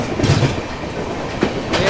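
West Bengal Sampark Kranti Express rolling fast, heard from on board as a steady broadband rumble with faint clickety-clack of wheels over rail joints and brief swells of noise.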